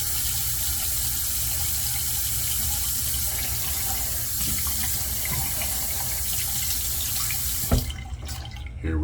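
A tap runs steadily to warm up a razor blade. The close, even rush of water continues throughout and ends with a brief clatter and splashing near the close.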